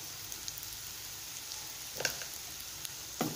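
Masala eggs frying in a pan with salt and chili powder, a soft steady sizzle running throughout, with a few louder crackles and a brief stirring scrape near the end; no talking.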